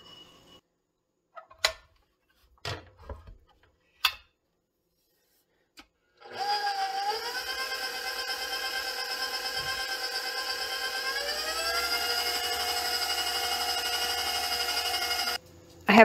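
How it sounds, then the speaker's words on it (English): A stand mixer whirs steadily through cake batter of cake mix, three eggs, oil, rum, water and smashed banana, a constant motor hum with a slight pitch shift midway, starting after a few sparse clinks and running alone until it stops. "stand mixer, and we will mix this for a couple of minutes"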